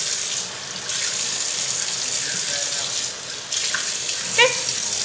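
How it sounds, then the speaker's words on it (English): Makeup brushes rinsed under a running tap into a sink, a steady close rush of water with brief squeaky, rubbing scrapes of bristles near the end. "That's why we always have to wash our brushes"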